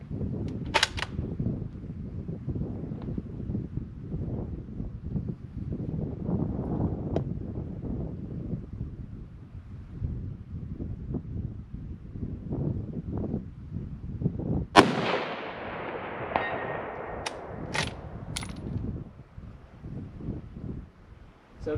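A Creedmoor rifle fires at a distant target outdoors: one sharp, loud report with a ringing tail stands out among fainter thumps, all over gusty wind buffeting the microphone.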